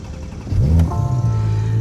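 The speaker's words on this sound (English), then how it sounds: "it doesn't sound too bad for a V6" A 2020 Porsche Panamera 4 with a V6 engine starts up close by, a quick crank and catch that settles into a steady low idle hum, alone without talk.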